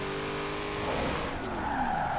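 A C8 Corvette drifts in Forza Horizon 4, its tires squealing in a loud, sustained skid over a droning engine, with the pitch of the screech sliding upward toward the end.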